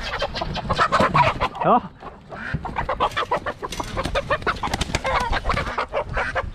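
A rooster, an Americana cross on a farm, clucks repeatedly and close by in a steady, busy stream of calls, with a brief spoken exclamation near the start.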